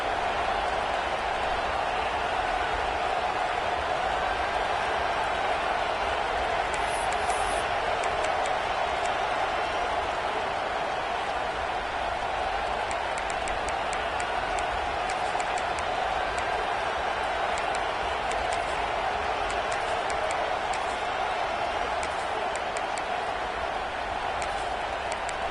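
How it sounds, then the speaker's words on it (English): Football stadium crowd at an Arkansas game, a steady broadband roar of many voices holding at an even level without breaks, heard from a distance throughout. "This crowd bringing the energy and noise early."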